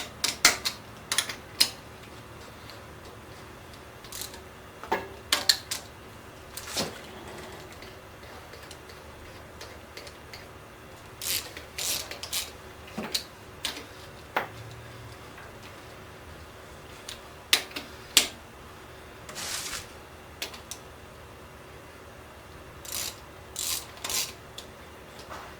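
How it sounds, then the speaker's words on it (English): Hand-tightening cylinder head bolts on a Chevy 454 big-block engine, with scattered light metallic ticks and rasping clicks in irregular bursts over a quiet background. "I'm guessing I'm pretty much tightening these about 40 to 45 pounds by hand right now."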